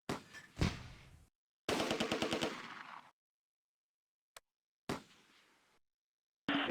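Heavy machine-gun fire in the Close Combat: A Bridge Too Far game, set on Schijndel Road during Operation Market Garden, comes in loud rattling bursts broken by silent gaps, with one isolated shot between them.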